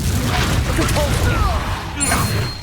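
In the Hogwarts Legacy video game, a Confringo blasting spell erupts with booming, crashing hits amid busy spell-combat effects, whooshes and chirping magical tones, with a voice speaking over the fight.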